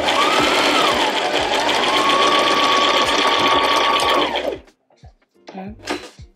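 A sewing machine runs fast and steadily while stitching a seam, loud and close with a high motor whine, then stops abruptly and gives way to a few soft handling knocks and a brief voice.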